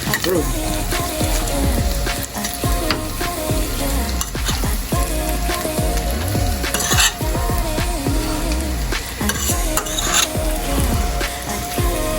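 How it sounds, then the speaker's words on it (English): Sausage and rice sizzle loudly in a frying pan as a Southern-style brown sausage and rice dish with gravy is stirred, with steady frying crackle and repeated scrapes and clanks of the utensil against the pan close by. "Then stir it again."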